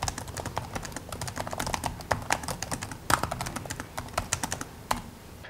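Rapid, uneven clicks from scissor-switch keys on a lightweight thin-and-light laptop with a slightly soft keyboard deck, typed up close in a steady burst of keystrokes with a few sharper taps standing out.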